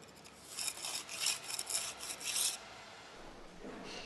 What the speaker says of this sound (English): You can then apply a finish by using the trowel at an angle, which then produces the struck finish.